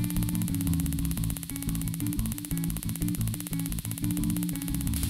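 A Tesla coil with a needle fitted on top throws streamers, giving a continuous loud buzzing crackle with a rough, rapidly pulsing hum that stays steady throughout and has no voices over it.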